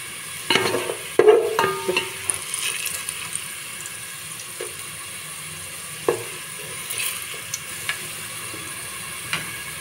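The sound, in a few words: food frying in oil until golden brown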